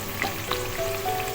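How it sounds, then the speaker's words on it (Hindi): Potato snacks frying in hot oil over a medium flame, a close, steady crackling sizzle with small pops and bubbling and no talking. "मीडियम फ्लेम पे हमने इसको फ्राई करना है"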